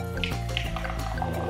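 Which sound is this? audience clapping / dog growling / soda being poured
soda being poured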